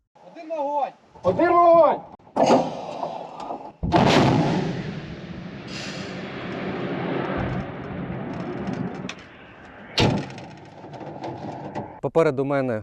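Heavy Ukrainian artillery booms roll in near Avdiivka, two big blasts with long echoing decay, amid nearby voices speaking between the explosions.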